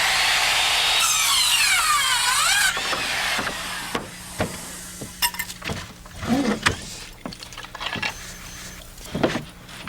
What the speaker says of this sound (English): We eyeball an angle cut at one end, position it, and cut an angle at the top end.